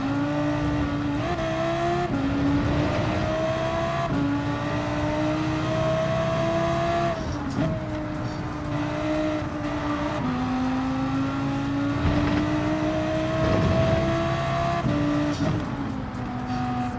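A race car engine in Gran Turismo 7 drones loudly and steadily throughout, its pitch rising with each gear as the car accelerates, then dropping sharply at shifts around corners, with no voices present.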